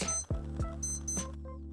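A Casio F91W digital watch sounds its alarm test, a run of sharp high-pitched electronic beeps in quick repeated bursts, close and clear against a low background hum.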